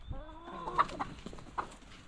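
Hens clucking softly nearby, a few short throaty clucks over low rustling, no talking.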